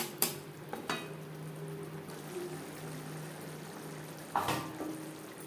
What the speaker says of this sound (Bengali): 4-5 মিনিট মশলা কষিয়ে নেব।